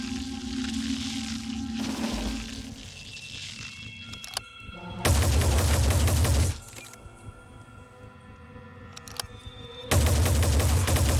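Turrets in the Phoenix Point video game fire two loud, sustained bursts, each lasting about a second or two, separated by quieter ambient game sounds.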